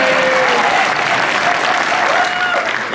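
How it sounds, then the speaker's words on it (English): A live audience at an evening event breaks into loud, continuous applause, dense and even from start to finish, with faint voices underneath. "says pause for applause."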